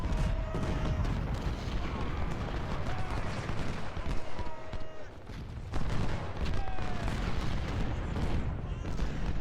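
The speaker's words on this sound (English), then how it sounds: "Kershaw's drawing the artillery fire" Booming artillery volleys and crackling musket fire on a Civil War battlefield at Antietam in Ultimate General: Civil War, with repeated distant cannon thuds over a continuous din of massed gunfire.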